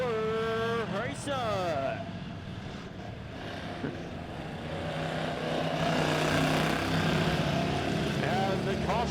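Pure stock race cars roar around the Lebanon Midway Speedway dirt oval during a heat race, engines droning loud and close with rising and falling pitch as cars pass, while a track announcer talks over the pack.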